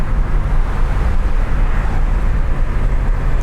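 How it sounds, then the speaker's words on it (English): Steady loud roar of an airplane overhead near Fort Lauderdale Airport, blended with the engine of a 1987 Chevy Monte Carlo and wind noise, with no pauses and no voices. "And there's one of the airplanes, so we are 5 minutes from the Fort Lauderdale Airport."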